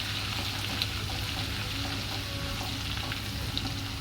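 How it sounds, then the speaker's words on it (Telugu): Ginger and garlic fry in oil over a low flame for a prawn pickle, producing a steady, dense sizzle with soft stirring sounds and no talk. "ఒక 2 నిమిషాలు ఇట్లా అల్లం వెల్లుల్లి బాగా వేగాలన్నమాట."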